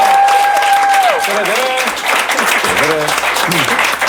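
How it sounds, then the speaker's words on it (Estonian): Studio audience applause on a comedy quiz show, starting under a held musical tone and continuing loudly, with some voice-like sliding sounds mixed in. "Võtame aplausiga vastu."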